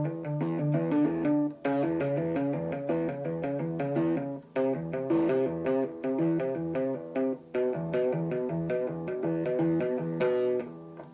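Distorted electric guitar playing the bridge riff of Royal Blood's "Figure It Out", a tight repeating pattern of chugging, pulsing notes with brief gaps between phrases, played alone and close.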